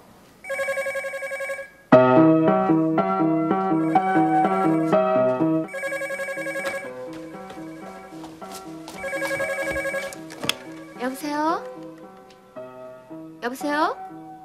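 A telephone rings with a bright, repeating electronic tune in a 1996 Korean KBS TV drama. Bursts of the ringtone recur over about fourteen seconds, and people briefly talk between them.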